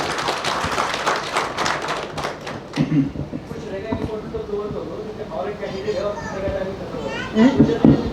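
Scattered hand clapping from a crowd under children's chatter and voices, with irregular taps and thumps.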